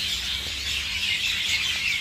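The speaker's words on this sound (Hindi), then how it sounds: "ये चिड़ियों की आवाज़ सुनाई पड़ रही आपको" A group of birds chirps and squawks on a university campus, forming a dense, bright twittering that carries on continuously without a break and with no one speaking.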